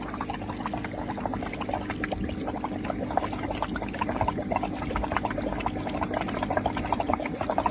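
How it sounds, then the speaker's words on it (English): A swimming pool pump running to blow water out of the pool lines, giving a continuous rushing, gurgling pour of water with a low steady hum underneath, close and constant. "turn that pump on. So now, come here, bud. So now this is gonna shoot all the water out"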